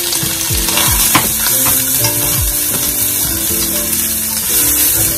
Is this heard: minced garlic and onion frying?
yes